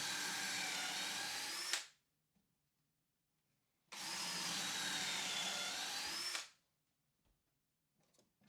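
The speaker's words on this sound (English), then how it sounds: "pre-drill and screw all those, in the same way but deeper because you're going through the side of the 2x4s" A power drill pre-drills screw holes through the side of 2x4 lumber for an outdoor chair, two sustained whining bursts of about two seconds each, separated by a short pause, close and loud.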